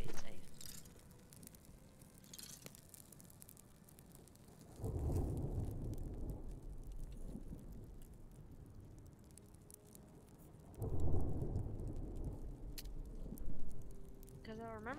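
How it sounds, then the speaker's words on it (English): Rain and rolling thunder from a storm in the video game Smallands, with broad low rumbles swelling twice over a steady wash of rainfall while people talk over it. "Oh, do you hear that? Yeah. Get our first storm."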